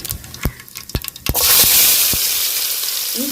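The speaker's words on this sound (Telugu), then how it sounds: "నేను యాక్చువల్గా జీలకర్ర ఆవాలు వేసుకుందామండి, ఉల్లిగడ్డలు" Cumin, mustard seeds and onions hit hot oil in a village-style capsicum curry, a few sharp clinks and taps giving way to a loud, steady, broad sizzle that fills the rest of the clip.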